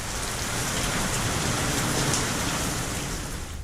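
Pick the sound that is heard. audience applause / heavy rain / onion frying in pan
heavy rain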